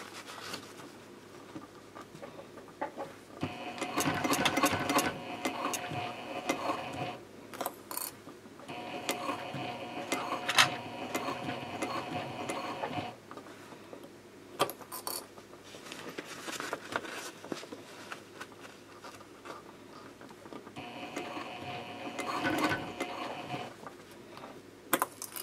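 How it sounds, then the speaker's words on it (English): A sewing machine stitches a 3/8-inch seam from the gusset side of a fabric sling, whirring in three steady runs of several seconds each with pauses between them, close and moderately quiet. "The seam allowance is 3/8 of an inch, and you are sewing from the gusset side"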